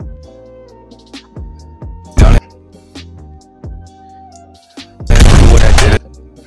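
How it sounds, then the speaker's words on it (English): Gunshot sound effect synced to a beat drop in a music edit: two loud, dense bursts, a short crack near the middle and a longer blast near the end, over steady music with melodic tones. "you want to sync that up with the gunshot"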